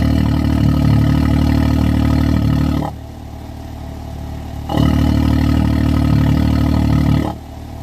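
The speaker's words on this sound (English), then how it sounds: "We got the machine running right now." A Can-Am X3 UTV engine runs close by, its loud idle broken by two blips of revving that lift the note before it settles back to a lower, steady rumble.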